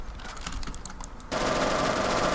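Shots from an arm pistol in the video game Phantom Forces ring out as a rapid burst of close, sharp reports, then give way to a loud, dense roar of continuous fire.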